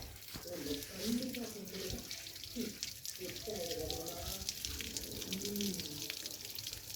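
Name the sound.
water from a hose filling a tractor radiator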